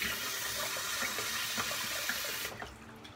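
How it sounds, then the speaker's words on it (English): Running water from a tap splashes steadily as a man rinses his face after a shave with a Gillette Red Tip razor and Wholly Kaw soap, a close continuous rush that tapers off near the end. "Alright, I'm gonna go ahead and rinse off."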